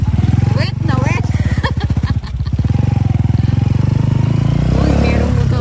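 A motorcycle engine runs steadily at close range beside a rural farm path in dry season, its low rumble continuous beneath loud conversation throughout.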